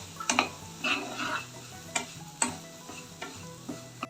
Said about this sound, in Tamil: ரவையை இதிலேயே ஃப்ரை பண்ணி எடுத்துக்கலாம்